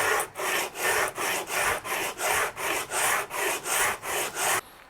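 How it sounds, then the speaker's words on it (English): A wooden electric guitar neck is sanded by hand with fresh 80 grit sandpaper: about eleven steady, rasping back-and-forth strokes in an even rhythm, close and loud, with no voices. "We'll put a fresh piece of 80 grit sandpaper."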